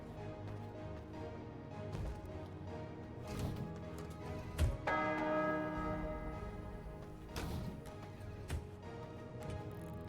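A crafted bell rings in the vampire survival game V Rising, sounding over steady game ambience with a clear, sustained tonal strike in the middle that rings out with lingering overtones, plus fainter strikes later.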